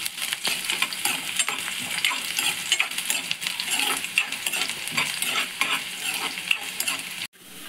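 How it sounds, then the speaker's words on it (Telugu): Hot oil sizzles and crackles steadily in a pan for a home-style Telugu egg fry with chirraku leaves, dense and close with spoon scrapes throughout, ending with a brief dropout. "ఆయిల్ వేడెక్కింది, ఆయిల్ వేస్తాం. దోరగా వేడెక్కగా వేయించుకోవాలి."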